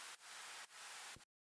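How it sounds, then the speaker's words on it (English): High-end tape noise layer for a music mix: a steady, quiet broadband hiss that runs in bursts with two short dips, then cuts off abruptly into silence, with no voices. "So then the last thing I have here is a bit of tape noise."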